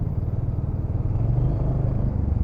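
A BMW F 450 GS motorcycle engine pulls away at a launch event. A close, steady low rumble throbs with a slight mechanical clatter and no talk.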